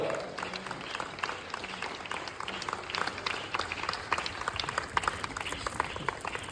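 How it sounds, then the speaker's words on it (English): Applause and scattered clapping from a summit audience, moderately loud with uneven crisp claps over a busy room, no one speaking over it. "please give a big applause and be louder than that for her"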